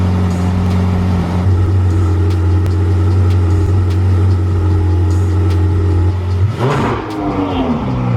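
A Ferrari 488 GTB's engine holds a steady, loud idle for several seconds, then a sharp throttle blip sends the revs rising and falling, recorded close in a detailing shop.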